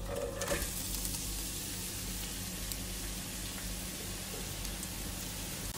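Chopped onion sizzles in a generous pool of olive oil in a cooking pot for a stuffing filling, a steady soft crackling hiss, close and quiet, with no voices over it.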